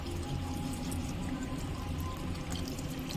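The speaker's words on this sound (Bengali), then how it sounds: "তখন আমি এখানে চিড়েটা খুব ভালো করে ধুয়ে নেব" Flattened rice (chira) is washed under water, giving a continuous, fairly soft wash of pouring and splashing liquid with no break and no speech.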